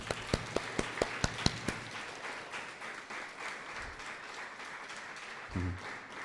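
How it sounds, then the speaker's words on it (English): A few sharp individual claps lead into sustained applause from a school speech day crowd, steady and moderately distant, tapering slightly toward the end. "can we give a round of applause for all the Academic Attainment English winners?"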